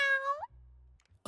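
A kitten character in a video game lets out one clear, close, rising meow, followed by a short low game tone.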